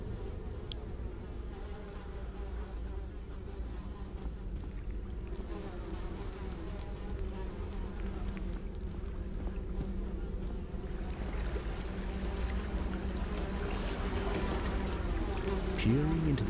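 Flies buzz steadily and close in a latrine in the video game The Secret of Weepstone, a continuous droning hum with a low watery rumble beneath, and no talking over it.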